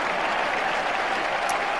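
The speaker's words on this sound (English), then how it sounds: "the crowd, as you can hear, go wild" A football crowd roars and applauds after a goal at an amateur match against Petone Stonecutters, a dense, steady wash of clapping and cheering that holds at the same loud level throughout.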